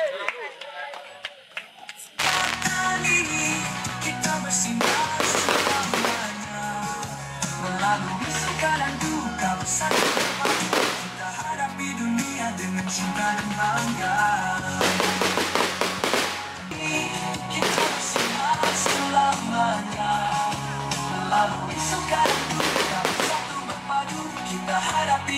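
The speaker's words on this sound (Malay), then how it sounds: "Maka dengan munculnya beribu-ribu mercon dan bunga api tadi" Thousands of firecrackers and fireworks go off in dense, crackling volleys. Sharp bursts surge again and again over a steady tonal bed and low rumble that runs through the whole stretch.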